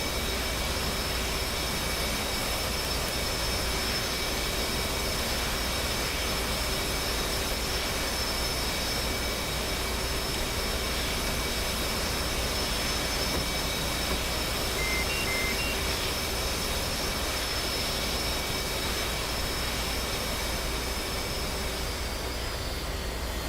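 An F/A-18C jet engine in the DCS flight simulator winds down in a steady, continuous whine and roar with faint tonal hums, heard alone without talk.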